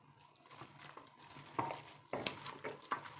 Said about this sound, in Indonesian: Oke, sekarang saya mau aduk.